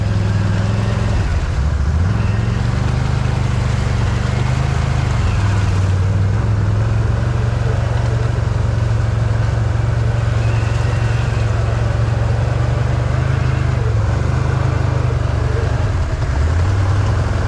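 A Can-Am Outlander XMR 1000R ATV engine drones loud and close while riding, holding a steady low hum with a few brief dips and rises in pitch as the throttle shifts.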